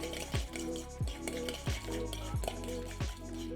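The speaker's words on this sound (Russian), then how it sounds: "Теперь я добавляю весь лук, все каперсы. Еще раз перемешиваю." A spoon stirring chopped onion and capers into a tartare dressing in a bowl, making rhythmic wet squishing strokes with light clinks, about five evenly spaced passes, close and alone.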